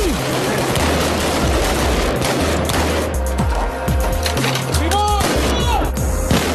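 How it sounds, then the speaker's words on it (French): Live-ammunition gunfire crackles during police unit training in Jerusalem, with dense bursts and rapid repeated shots, loud and close, interspersed with sharper single cracks and some faint background voices. "Les hommes du Yassam s'entraînent toujours, à balles réelles"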